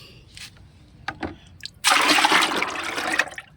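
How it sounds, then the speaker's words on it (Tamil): Water pours from a container into a 20 litre bucket, a broad splashing gush that starts abruptly after a few faint knocks and runs steadily at close range, with no talk. "கொஞ்சம் தண்ணி எடுத்து வச்சுருக்கேன், இதில் ஊற்றிக்கலாம்."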